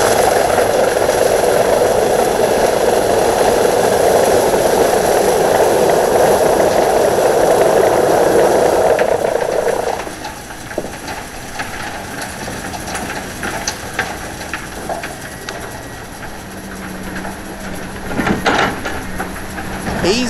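A Tigercat 620E skidder engine runs loud and steady with a broad rumbling roar for about ten seconds, then drops to a quieter idle with scattered clanks and rattles.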